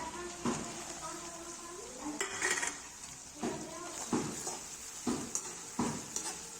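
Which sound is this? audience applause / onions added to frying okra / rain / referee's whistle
onions added to frying okra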